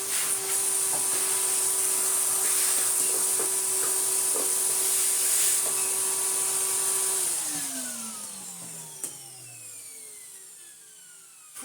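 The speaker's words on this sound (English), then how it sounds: "he's still got excellent suction actually" A Numatic NVH370-2 vacuum cleaner runs steadily with its hose fitted, a loud continuous motor whine, then powers down so the pitch slides lower and fades over the last few seconds.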